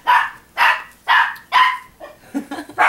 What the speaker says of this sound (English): the dogs are going crazy, which means the bus is outside